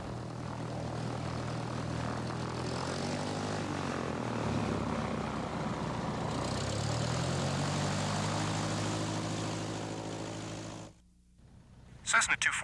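A Cessna propeller airplane idles on the ground while taxiing, a steady droning engine with shifting tones for about eleven seconds before cutting out, with radio speech heard over it.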